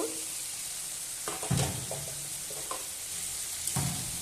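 Fish and potato pieces are turned in a pan, producing a soft, low sizzle with a few scraping stirs of a spatula, heard fairly quietly and without speech.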